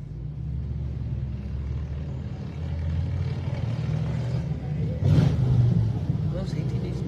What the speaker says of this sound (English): No, just motorcycles.